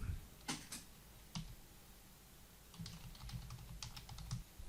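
Short bursts of keystrokes on a computer keyboard while entering text into an image editor, soft close clicks in scattered clusters separated by quiet gaps.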